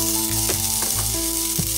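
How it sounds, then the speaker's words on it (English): Onion hits medium-hot olive oil in a pan, giving a loud, steady sizzle and frying crackle with a few clinks from stirring. "To our pan, we're going to add in our onion"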